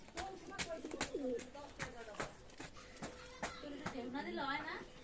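Teddy Kamagar pigeons coo softly in a low, throaty warble among sharp clicks and rustling, with a person talking over them.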